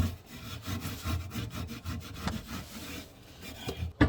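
A kitchen tap's underside is scrubbed clean with quick, rhythmic back-and-forth rubbing strokes, close and steady throughout, with no voices.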